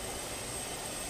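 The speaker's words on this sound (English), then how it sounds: "I am flying a plane into the Mile High Club." Airplane engine in the Just Cause 2 video game: a steady, even drone with a thin high whine on top, droning alone at moderate loudness without voices.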